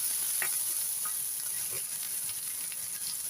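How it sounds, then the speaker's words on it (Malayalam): Cumin and green chillies with garlic frying in a pan for pulishery, a continuous bright hiss of hot oil with a few soft stirring scrapes. "ജീരകം, പച്ചമുളക് ഇതെല്ലാം കൂടെ കൂട്ടിയിട്ട് നമുക്ക് ഒന്ന് ഇളക്കി കൊടുക്കാം"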